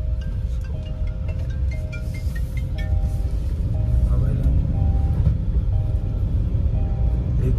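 A modified Tata car speeds along a road, its engine and tyre rumble loud and close throughout, swelling slightly in the second half, with faint voices in the cabin.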